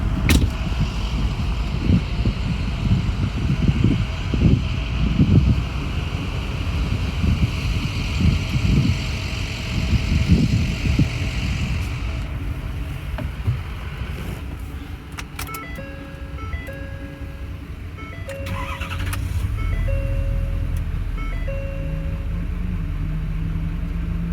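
A 2013 Ford F-250 pickup's 6.7L Powerstroke diesel engine cranks and settles into a steady, deep rumbling idle that runs on without talk, with a faint whine in the background.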